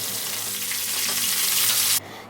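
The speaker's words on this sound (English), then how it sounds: "It completely depends on you that how much you want to fry your fish pieces" Snakehead fish pieces fry in a pan with a steady, close sizzle and crackle that holds throughout and cuts off abruptly near the end.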